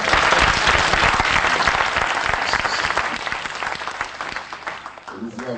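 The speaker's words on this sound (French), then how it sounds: "Si tu as été béni, acclame le nom de Jésus." A church congregation applauds and cheers loudly in praise of Jesus, a dense wash of clapping that gradually fades, with voices acclaiming beneath it.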